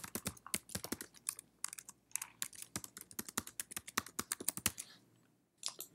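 Someone types on a computer keyboard in quick, irregular bursts of close, crisp keystrokes, with a brief pause near the end before a few more taps.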